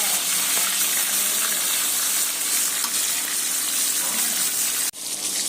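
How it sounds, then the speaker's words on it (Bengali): Pangas fish frying in hot oil, a steady loud sizzle that holds evenly for about five seconds before breaking off abruptly near the end. "এই যে মাছটা কিন্তু সুন্দরভাবে ভেজে নিতেছে।"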